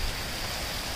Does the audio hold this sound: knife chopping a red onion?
no